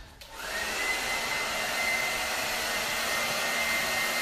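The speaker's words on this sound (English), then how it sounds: "Blow dryer here, guys." A hair dryer switches on and blows steadily while drying hair for a salon-style blow dry, a close, even whine and rush of air that holds for several seconds with no talking.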